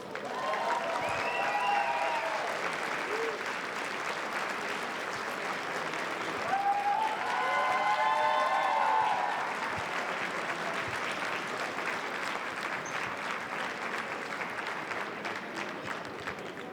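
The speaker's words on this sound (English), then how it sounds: "A warm round of applause right now for U.S." Sustained applause from a banquet audience at a Lunar New Year community gala welcoming U.S. Senator Tammy Duckworth, an even clapping texture running throughout with brief cheers and voices rising in the middle.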